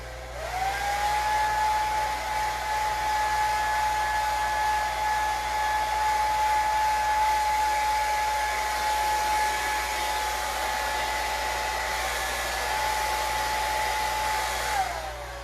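A hair dryer blows steadily on wet paint on a canvas, a loud, continuous whir with a sustained tone that holds for about fifteen seconds before switching off.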